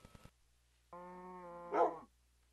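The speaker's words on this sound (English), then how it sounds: "Your dog follow you into the nether?" A dog barking in the video game Minecraft: a single drawn-out tonal bark or whine rising at the end, preceded by a few short clicks, heard alone over a quiet background.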